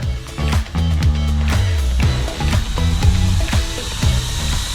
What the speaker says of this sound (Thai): สามารถปรับได้ถึง 100 ระดับพัดลมอะไรปรับได้ร้อยระดับ